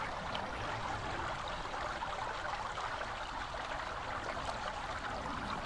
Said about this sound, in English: Let me see if the sound can pick up the fountain here.